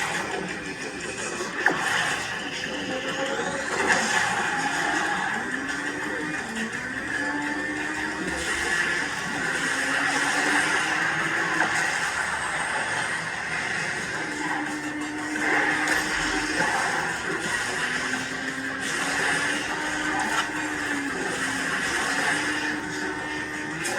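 Racing cars in the Asphalt 9 video game, played on an ASUS ROG Strix Scar 17 gaming laptop, give a continuous whine of engines with gliding pitch shifts and rising revs, mixed with game music over the whole stretch.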